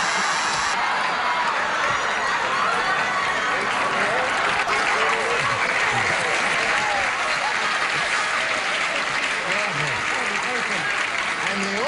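Studio audience at a 1970s television game show breaking into sustained applause, a loud, even roar of clapping with scattered cheers and whoops and voices threaded through it.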